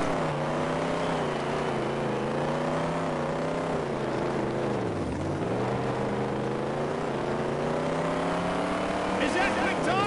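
A race car engine whines through a power slide in the video game Dirt Track Racing 2, a continuous droning tone that sweeps down and back up midway, with commentary over it.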